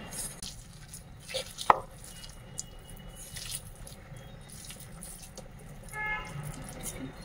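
Corn pakora batter made with gram flour is mixed by hand, giving soft, close squishing and kneading sounds with one or two sharper clicks from the bowl.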